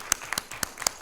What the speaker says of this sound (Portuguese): Uma salva de palmas a nossa.